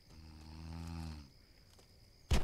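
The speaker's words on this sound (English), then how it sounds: "I hear him snoring." A sleeping enemy in a camp in a video game lets out one long, droning snore close by, followed by quiet and then a sharp, sudden noise at the end.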